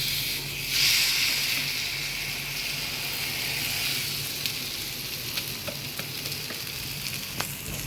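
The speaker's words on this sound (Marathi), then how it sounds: "हे बघा, तवा तापलेला आहे. आणि आता मस्तपैकी असं टाकून घ्यायचं." Thalipeeth batter made with pumpkin is spread on a hot griddle and sizzles loudly, a strong hiss at first that settles into a steady crackle with occasional small pops.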